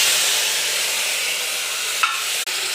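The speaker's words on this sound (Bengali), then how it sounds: "পেঁয়াজ দিয়ে কষাতে থাকবো।" Onion paste sautéing with whole garam masala in oil left from frying fish, a steady loud sizzle and hiss with a brief stir clink near the end.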